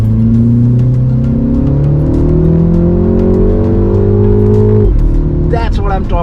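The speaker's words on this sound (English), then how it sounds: "the exhaust is really nice, the air intake sound is good" A MINI JCW Countryman All4 performance car revs hard, its exhaust and air intake rising loudly in pitch through a gear before a sharp shift drops the note, followed by a few crackling pops at the end.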